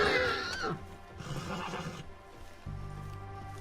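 A horse in Red Dead Redemption 2 whinnies loudly up close, a shrill descending neigh followed by snorting breaths, then a low steady hum takes over.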